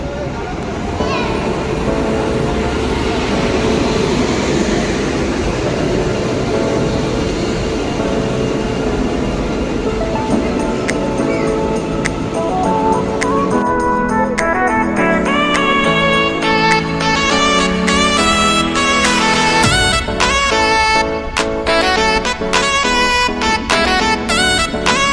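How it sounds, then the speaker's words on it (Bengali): A passenger train on the Kolkata to New Jalpaiguri route pulls into the Malda Town station platform, a loud rumbling and clanking rolling in under crowd chatter, with children's voices and squealing, horn-like tones growing stronger as it arrives. "এই জাস্ট আমাদের ট্রেন দিল"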